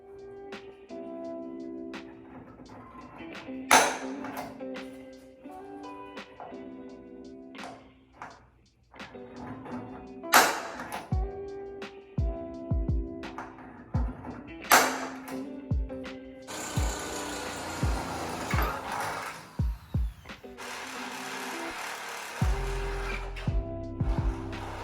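A center punch and a drill cut a large hole in the body of a 500+whp D-series Honda Civic being prepped for the track: sharp metallic taps, then a harsh sustained grinding burst over a steady shop background.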